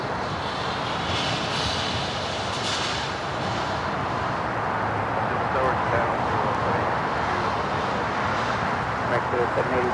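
JetBlue jet arriving from JFK on runway 25 right at LAX, a loud, steady broadband engine roar and rushing noise that stays constant throughout, with people talking underneath.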